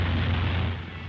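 Gunfire from a radio drama battle scene with soldiers, a dense rumbling burst of shots and booms that fills the whole moment at close range, loud and continuous before easing off slightly at the end.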